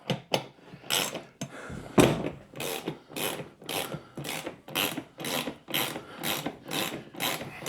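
A ratchet wrench tightens bolts on a Gorilla heavy-duty poly yard dump cart, with rapid rhythmic clicking strokes repeating about every half second, close and loud with no talking.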